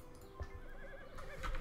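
A horse neighs in the Rival Stars Horse Racing video game, a faint wavering whinny over soft background game ambience.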